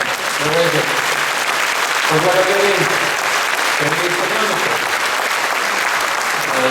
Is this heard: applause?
yes